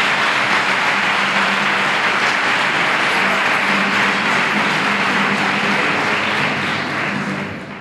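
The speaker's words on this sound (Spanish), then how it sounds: "Fuerte aplauso para el coro de campanilleros de Nuestra Señora de la Aurora." Loud, sustained applause from an audience at a campanilleros choir gathering, honoring the choir of Nuestra Señora de la Aurora, a dense, even roar of clapping that fills the whole span and fades slightly at the very end.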